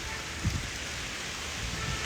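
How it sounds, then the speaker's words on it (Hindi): Rain falling in the Delhi NCR area, heard as a steady, even hiss of wet noise that fills the whole moment, with a few soft low thumps and no voices. "हमारे यहाँ तो बारिश हो रही है दिल्ली एनसीआर में।"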